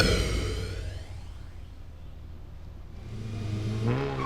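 A race car at a regional autocross in Tagum City passes, its engine rising and falling with a whooshing pass, then revving again as it accelerates away, loud and near with no talk.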